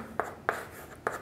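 Pen strokes on paper while writing out an English sentence, three short, faint scratchy taps spaced across a quiet moment.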